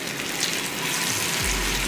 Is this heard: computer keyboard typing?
no